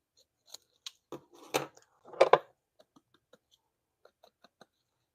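Scissors snip a paper craft tag, a series of crisp close cuts, some single and some in quick clusters, followed by faint small paper rustles and ticks in a quiet room without talking.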